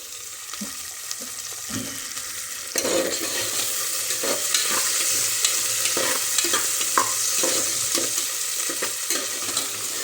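Green chilies and peas frying in ghee for vegetable masala rice, a loud continuous sizzle that swells partway through, with repeated stirring scrapes and clinks against the pan.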